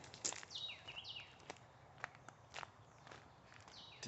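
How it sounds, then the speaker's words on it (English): Footsteps crunch steadily on a gravel hiking trail at a brisk pace, close and fairly loud, with faint birdsong in the background. "You can probably hear my crunching footsteps."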